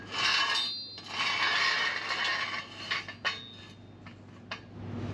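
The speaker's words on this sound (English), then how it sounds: "Now I'm going to go ahead and put my vehicle stand here. I'll put it right on the axle." A metal vehicle stand is scraped and set into place under the axle of a Jeep Gladiator, with clanking, grinding metal and a few sharp knocks close by and no talk.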